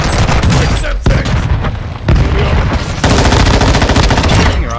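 Warzone zombies mode video game gunfire: loud, dense automatic weapon bursts pounding almost continuously at close range, broken by short gaps, with players talking under the shooting.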